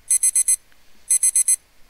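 Bedside alarm clock on a nightstand sounding off in two bursts of four rapid, shrill electronic beeps separated by a short pause, loud and close with no other sound.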